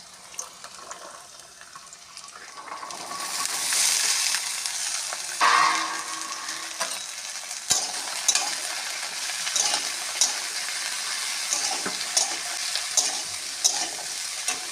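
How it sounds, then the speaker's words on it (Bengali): Potato, eggplant, flat beans, carrot and peas hit a hot frying pan with nigella seeds, bursting into loud sizzling frying that settles into steady crackle with occasional stirring clinks, no voices. "এবার সবজিগুলো দেব। সবজির মধ্যে আলু, বেগুন, সিম, গাজর, মটরশুঁটি।"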